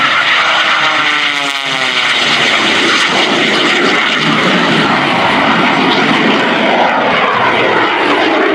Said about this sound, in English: the jet-powered Waco